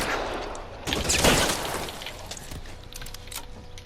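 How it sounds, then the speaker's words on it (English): A Tommy gun fires in LA Noire, a rapid rattling burst of close gunshots with heavy booming impacts, then scattered distant shots and rumble trailing off. "You're gonna use a Tommy gun?"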